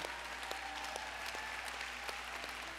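Church congregation applauding to celebrate the men, heard faint and distant as a steady wash of clapping with a low hum underneath.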